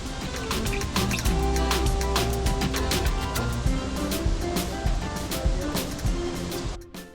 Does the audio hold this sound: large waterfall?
yes